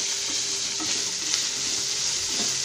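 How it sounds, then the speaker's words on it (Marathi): Peas and potatoes sautéing in oil for spiced masale bhat rice, a steady close broadband sizzle with soft stirring scrapes, no talk. "तेलावर असे छान परतून घ्यायचं आहे सगळं."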